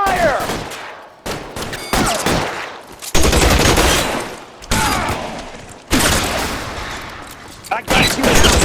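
Gunfire in L.A. Noire, with heavy volleys of rapid shots in repeated bursts separated by brief lulls, close and loud, mixed with game voices.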